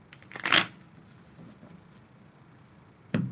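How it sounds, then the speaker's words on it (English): Tarot cards being shuffled by hand, two short papery riffles with quiet handling sounds between them, close and fairly soft. "A few shuffles and I'll get right into the reading."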